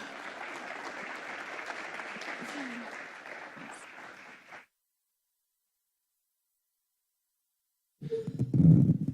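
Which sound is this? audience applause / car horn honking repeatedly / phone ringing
audience applause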